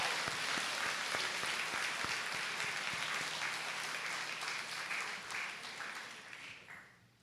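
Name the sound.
audience round of applause at school ceremony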